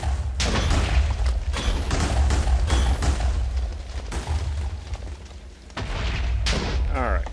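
Repeated heavy booms and thuds from explosions in a Minecraft FTB Infinity Evolved Skyblock game, loud and dense, stacking one after another with little pause over several seconds.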